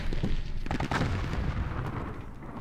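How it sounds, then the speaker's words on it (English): Mortar fire in a video game of a 1968 Israeli raid into Jordan, heard as a loud booming blast with a rumbling, crackling tail that fills the short moment. "Mortar seems to have missed."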